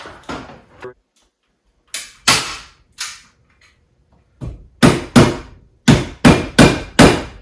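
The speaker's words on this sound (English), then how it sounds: "I'm not holding the stapler fully up against the wire" Staple gun fastening wire to a garage ceiling, with sharp, loud snapping shots heard close by, first scattered with pauses, then in a fast run of five near the end, no talking.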